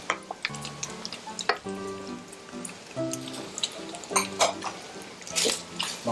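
Onions frying in pork fat and meat juices for a shepherd's pie filling, with a steady, moderately loud sizzle, scattered sharp crackles and spatters, and stirring noises throughout.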